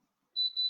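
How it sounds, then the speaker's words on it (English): A kitchen timer goes off while greens cook, giving two short, high-pitched electronic beeps in quick succession that stand out against an otherwise quiet room. "there's the timer for our greens"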